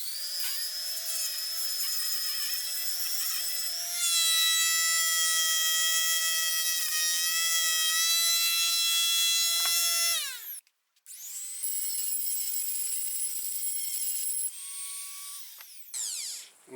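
High-pitched whine of a Dremel rotary tool cutting with a metal cutoff disc, sparks and dust flying, a loud sustained tone that shifts pitch under load, cuts out briefly, then resumes before tapering off.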